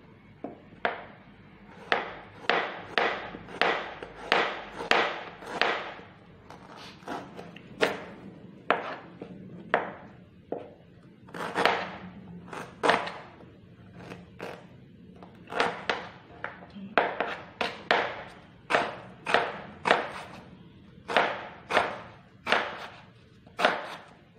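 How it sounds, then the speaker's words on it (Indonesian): Spices for a stir-fry of bitter gourd and tempeh are chopped by knife on a board: about two dozen close, sharp thuds in quick uneven bursts, with no talk. "ini bumbu kita potong-potong baru dihaluskan semuanya."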